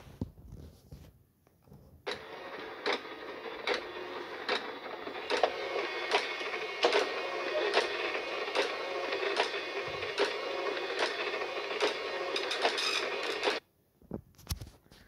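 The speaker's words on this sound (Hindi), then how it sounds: "अगर हम देखते हैं कि डॉट मेट्रिक्स प्रिंटर हमारे पास काम कैसे करता है" A dot matrix printer prints in a steady, buzzing rasp, with regular clicks as the print head moves from line to line. It runs for about twelve seconds, then stops abruptly.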